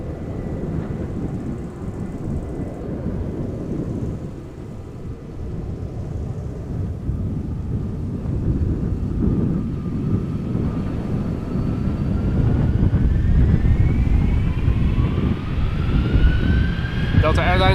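Airliner departing Amsterdam Schiphol in a crosswind from the right, a broad jet engine roar building steadily louder as it climbs away, with a rising whine toward the end and some wind noise.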